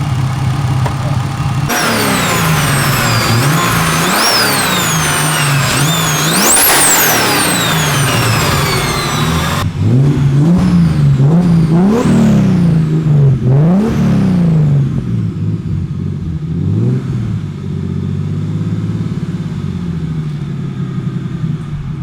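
A turbocharged BMW E36 engine runs and revs hard nearby, its rising and falling tone swinging through repeated throttle blips over a steady idle rumble, loud throughout with no talking.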